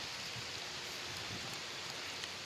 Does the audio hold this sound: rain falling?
yes